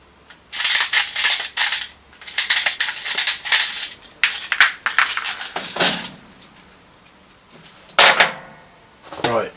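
A pistol fires shotgun-style 0.3 shells packed with six BBs each at a target, giving sharp close cracks in quick uneven bursts with metallic clinks and rattles between them.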